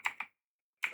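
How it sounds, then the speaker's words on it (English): A computer keyboard clicks twice in quick succession while a prompt is typed into an AI video tool, then falls silent before another burst of keystrokes, crisp and close. "by typing some words or some phrases like this ones"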